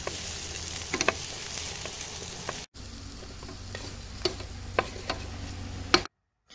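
Sliced pickled jalapenos and minced garlic sizzle steadily in a pan for campfire chili, with a few clicks of stirring and a brief break partway through, close and alone without speech.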